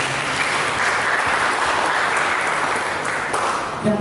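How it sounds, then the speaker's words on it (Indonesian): A church congregation claps together during a sermon, a sustained, even roar of hand-clapping that fills the room and holds steady throughout before easing slightly at the end. "Berikan tepuk tangan bagi Dia."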